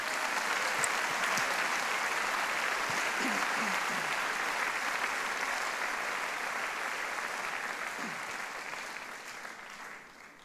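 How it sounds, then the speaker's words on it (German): Warm, steady applause from a church congregation for two people after a talk, a soft continuous patter of clapping with faint voices beneath that gradually fades toward the end. "ihr kriegt mal einen richtig guten Applaus"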